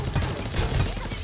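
Rapid bursts of gunfire in the Knives Out battle royale mobile game, dense, overlapping shots in a sustained firefight, moderately loud throughout.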